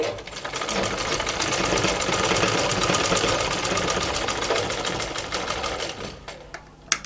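A sewing machine stitches hook loops into a blouse with contrasting thread, whirring in a steady, loud, continuous run of rapid needle strokes before stopping abruptly at the end.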